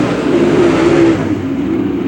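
Race cars roar around Macon Speedway on the final lap of a close three-lap finish, a loud, steady wall of engine noise with a sustained tone that holds, then eases slightly as the pack moves along.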